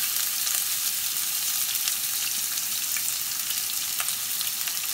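Chopped onion fries in olive oil with tomato sauce in a pan, giving a steady, close sizzle with faint crackles and no talk over it.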